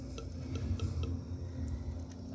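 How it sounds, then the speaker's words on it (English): Water slowly dripping out of an opened plumbing drain, a steady low gurgling trickle with faint drips, close and continuous. "you see, just slowly dripping it out"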